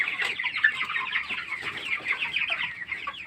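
Flock of 33-day-old broiler chickens on a poultry farm, a dense continuous chorus of overlapping clucks and chirps, steady and fairly close with no talking.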